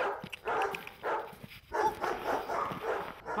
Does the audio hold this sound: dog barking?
yes